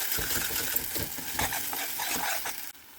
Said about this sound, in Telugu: ఇది కొంచెం వేగే వరకు కలుపుతూ ఉండాలి, లేకపోతే మూకుడికి అంటిపోతూ ఉంటుంది